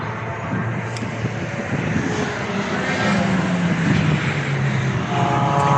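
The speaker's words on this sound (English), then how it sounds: "That Exige just screams down the main straight." A Lotus Exige screams down the main straight at Cadwell Park during a track day, its engine a loud, rising roar that swells and then drops in pitch as the car passes by.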